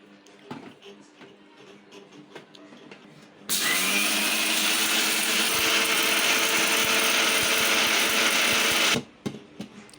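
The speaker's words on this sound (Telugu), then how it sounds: "మిక్సీ పట్టుకుందాం ఫ్రెండ్స్" A mixer grinder runs loud and steady for about five seconds, pulverizing dry-roasted mustard and fenugreek seeds, with quieter kitchen sounds before and after the burst.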